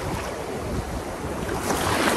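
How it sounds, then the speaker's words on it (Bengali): Sea waves washing onto a beach at Mandarmani, a continuous broad rush of surf with some wind buffeting the microphone, building slightly toward the end. "ঢেউ আসছে"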